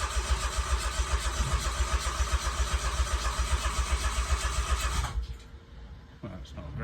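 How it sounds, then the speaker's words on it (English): A Smart 450 Fortwo engine cranks and tries to start after a timing chain replacement, churning in a rapid rhythmic pulse for about five seconds before cutting out to near silence, with a brief clunk near the end. "I think everything is reconnected and the engine should start"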